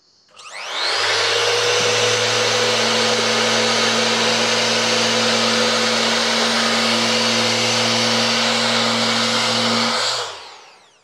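A Festool Rotex 90 sander in finishing mode with 80-grit paper spins up and runs at maximum speed as a loud, steady, whining drone with a humming motor tone for about nine seconds, then winds down, with no talking.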